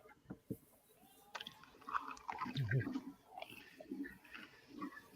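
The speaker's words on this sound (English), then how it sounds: "I'm eating a stuffed jalapeno." Close, crunchy chewing of a stuffed jalapeno, several wet bites and crunches in an irregular rhythm, with a voice murmuring briefly between mouthfuls.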